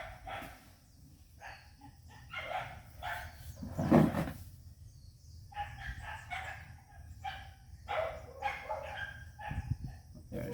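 Dogs barking near a house in the Philippines, irregular bursts of barks and yelps with brief gaps, fairly close, plus a knock or thump partway through.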